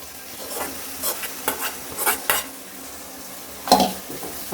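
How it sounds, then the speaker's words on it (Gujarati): Tomatoes and chilies cooking down in a pan while a spoon stirs, making intermittent scraping and clattering strokes over a soft sizzle, with a sharper metal knock near the end. "આપણે મિક્સ કરતા રહીશું એટલે ચોટે નહીં ટમેટા મરચાંને એકદમ ગળી ગયા છે"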